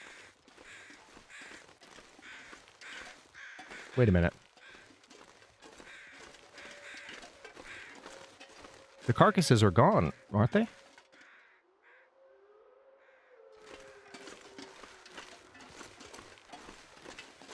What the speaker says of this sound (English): They're traveling crows.